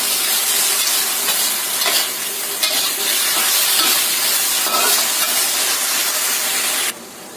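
Food stir-fried in a hot pan gives a loud, continuous sizzle with scraping and stirring noise throughout, then drops quieter near the end, with no voices over it.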